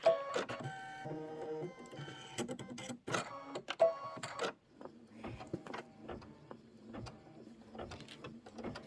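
An embroidery machine stitches a quilting pattern on an ice cream bar block for a bench pillow, a steady close mechanical whir with rapid needle clatter and short pauses and bursts, no talking.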